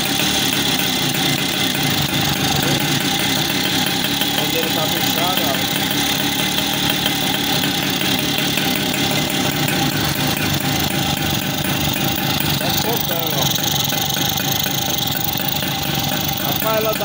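A Motoka 50cc motorcycle engine idles steadily with a fast, even putter close by, while someone talks over it in Portuguese.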